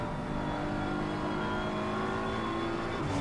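BMW M4 GT3 race car engine in Assetto Corsa Competizione during a GT3 race at Snetterton, a steady loud drone held at near-constant revs throughout.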